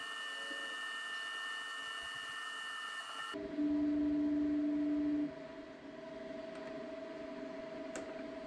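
An Elegoo Saturn resin 3D printer runs during bed leveling with a quiet, steady motor hum and electronic whine, briefly louder for a couple of seconds in the middle, then settling back to a low drone.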